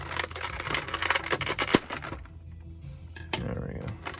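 Plastic packaging on a limited-run Phobos Edition Doom Marine figure is snipped and pulled apart in a quick run of close, crisp cuts and crinkles, then a quieter pause and a few more handling rustles.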